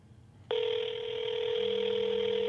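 A telephone tone plays over speakerphone, a loud, steady electronic tone that starts abruptly and holds for about two seconds, with a lower second tone joining partway through and no talk.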